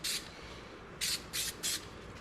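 Super 77 spray adhesive hisses from an aerosol can in four short bursts, one longer then three quick ones, faint against a steady background hum.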